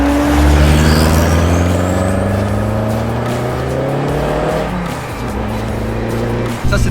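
Engine of an old turbocharged car from another era, held for fifteen years, roaring loud and close, its pitch climbing steadily as it revs and accelerates, with a brief dip near the end and no talk.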